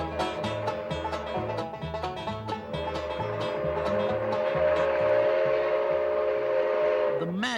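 A turn-of-the-century steam locomotive on the Grand Canyon Railway chugs uphill in a steady rhythmic beat, then a long loud whistle blows, sustained before cutting off sharply.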